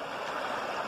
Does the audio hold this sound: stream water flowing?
yes